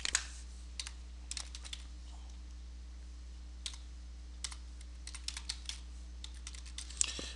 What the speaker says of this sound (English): You put in your password twice because if you put it in once and it's wrong,